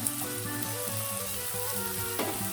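Crushed garlic sautéing in a pan for crab masala gives a steady, close sizzle and fry, with faint stirring and no voices.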